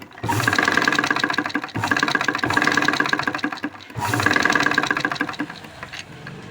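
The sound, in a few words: sewing machine stitching a boat neck blouse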